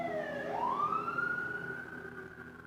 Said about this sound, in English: And even with the sirens in the background, we can find this sacred space.